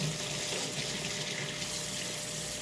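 Hot water running steadily from a kitchen sink faucet, a constant close hiss and splash with no pauses or voices.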